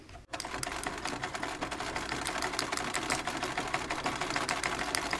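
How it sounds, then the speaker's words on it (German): Sewing machine stitching the crotch gusset of underwear fabric, running steadily and close after a brief start, a fast even mechanical rattle throughout with no talk. "Wir starten damit, dass wir die Zwickel zwischen Vorder- und Hinterhosen nähen."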